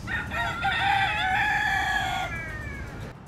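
A rooster crows loudly nearby, one long harmonic call lasting a couple of seconds, over a steady outdoor background hum.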